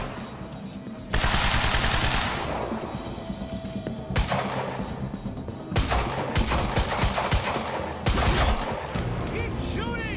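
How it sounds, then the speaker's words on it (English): Gunfire in the video game Quantum Break, loud rapid bursts of automatic shots repeating over several seconds amid dense action noise, with a voice briefly talking over it. "Keep shooting."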